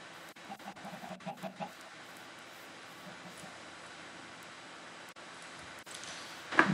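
Chicken clucking in the video game Minecraft, a short run of soft clucks early on, then quiet background with a louder burst at the end.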